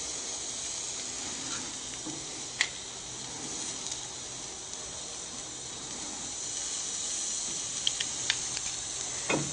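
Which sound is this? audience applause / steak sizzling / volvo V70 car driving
steak sizzling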